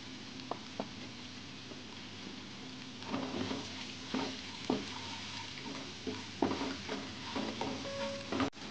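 Sliced onions frying in a pan with a faint continuous sizzle, broken by soft clicks and scrapes of a spatula stirring, quiet and close.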